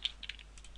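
A few quick keystrokes on a computer keyboard as code is typed, faint, close and brief clicks with no talking.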